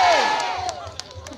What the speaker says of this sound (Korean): MBC 방송이 저 박수 함성 소리 다 녹음받아야 되는데 이 소리 가지고는 안 돼요